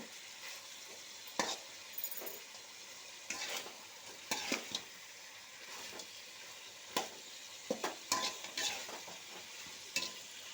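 Chicken curry with masala powder frying in a pan, a soft steady sizzle under repeated scraping and clinking strokes of a spoon stirring at irregular intervals.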